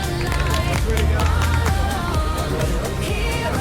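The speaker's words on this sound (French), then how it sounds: "Félicitations à vous trois, on peut les applaudir bien fort." Crowd applause for the podium finishers at a summer biathlon challenge in Luxembourg province, Belgium: dense, steady clapping from a gathered audience throughout, with some background chatter.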